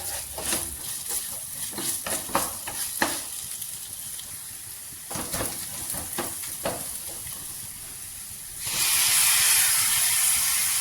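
Onion, ginger garlic paste, curry leaves and green chillies sautéing in a pan with a constant sizzle and repeated stirring scrapes, then a louder, steady hiss swells up for the last couple of seconds; no speech.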